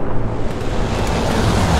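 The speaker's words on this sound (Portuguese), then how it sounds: "Nossa, que explosão bonita." Rumbling in-game explosion from the World War II shooter Hell Let Loose, a dense, loud low boom rolling on steadily for about two seconds with broad noisy spread and no voices over it.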